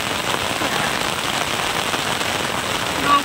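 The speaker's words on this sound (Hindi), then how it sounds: "भयंकर बारिश होने लगी है" Heavy rain falls hard and steadily in a hill region, a loud, dense, even roar of water hitting surfaces close by, with no voices.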